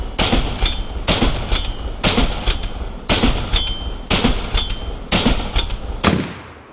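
A PSA AKP AK pistol with a Nikon red dot fires at a range target 25 yards away: six loud, sharp shots spaced about a second apart, each followed by a brief echo.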